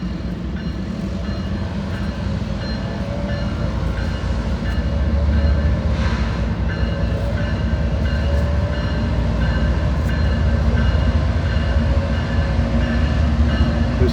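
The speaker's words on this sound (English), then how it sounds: "hopefully here real soon we're gonna have a train" Freight train I-141 running down the street in La Grange, Kentucky, on a dreary day, a steady heavy rumble of rolling cars and wheels that swells slightly midway, continuous and fairly close throughout.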